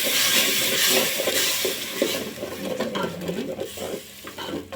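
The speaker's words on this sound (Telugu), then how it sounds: "దాన్ని కూడా ఈ నూనెలోనే వేసేద్దామండి. వేసేసి కలుపుకున్నామండి." Tomato paste stirred into hot oil in a pan for tomato rice, a steady close sizzle and frying hiss with scraping stirring strokes throughout, no talking.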